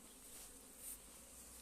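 Honeybees flying in front of their hives make a faint, steady buzzing hum, with one slightly louder pass as a bee flies close.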